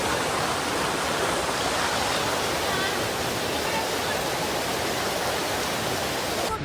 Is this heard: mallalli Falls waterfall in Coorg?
yes